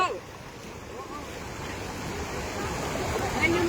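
Floodwater rushes through a flooded town with water about three feet deep, a loud, continuous roar and churn filling the scene close by with no voices heard.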